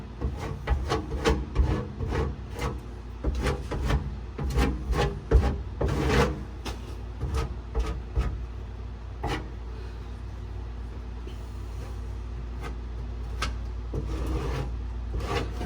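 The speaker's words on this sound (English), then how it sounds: "I'll show you guys how, with like a cheese grater. That's what I use, a cheese grater." A cheese-grater rasp scrapes across a repair on a rusty barn-find Pontiac floor in a series of close, uneven strokes that thin out and fall quieter toward the end.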